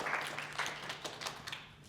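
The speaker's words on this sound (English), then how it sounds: "Round of applause." Faint, steady clapping from a small audience at a tennis coaching session, a dense patter that fades gradually toward the end.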